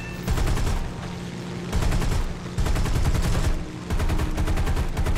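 Bursts of rapid automatic gunfire from the combat game War Thunder, loud and sustained in several long volleys separated by brief pauses, with no talking over it.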